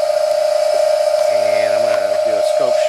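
A P-Motor rotor on a new rotor platform runs at about 6,000 RPM, giving a steady, loud electric whine with a strong constant tone and a faint hum underneath, while someone talks over it.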